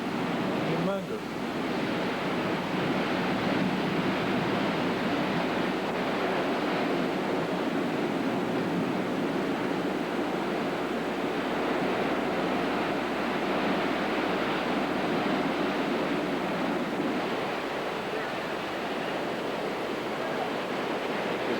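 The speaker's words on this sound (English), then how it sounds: "Those waves are humongous." Huge surf driven by Hurricane Iniki pounds the West Maui coast in 1992, a loud, continuous roar of crashing waves mixed with gusting wind buffeting the microphone throughout.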